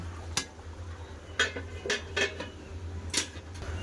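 Metal lid and utensil clatter over a pot of meat curry, a handful of sharp separate clinks and knocks spread over a few seconds against a low kitchen hum.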